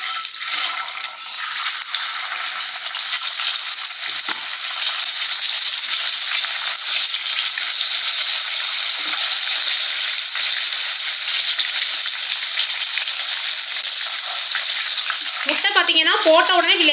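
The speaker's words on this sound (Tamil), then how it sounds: "இப்போ வந்து நம்ம அவிச்சு வச்ச முட்டைகளை சேர்த்துடலாம்." Boiled eggs fry in hot oil in a pan with a loud, steady sizzle and crackle throughout, and a brief voice comes in near the end.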